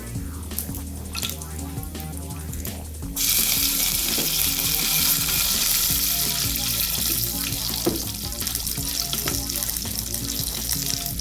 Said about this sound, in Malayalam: ആദ്യമായിട്ട് നമ്മൾ ഇഞ്ചിയും വെളുത്തുള്ളിയും ഫ്രൈ ചെയ്യും.